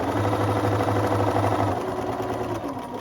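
Sewing machine stitching the seam of a fabric scrunchie, a steady fast mechanical whirr with rhythmic needle thumping, close and loud, slowing slightly toward the end.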